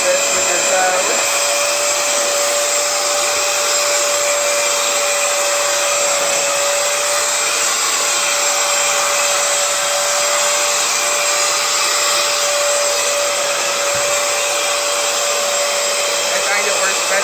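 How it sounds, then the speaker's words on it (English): A Hoover Floormate Edge floor cleaner runs in dry mode over sealed hardwood or laminate, giving a loud, steady motor whine and airy rush that holds at one pitch throughout, with no talking over it. "Let's put it on the dry mode."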